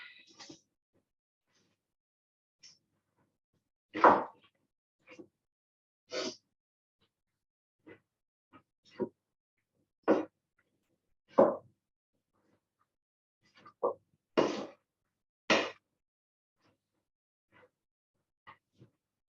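A spoon stirs a thick red cabbage and beetroot chutney in a pan, giving soft, irregular wet plops and scrapes spaced a second or two apart against near silence.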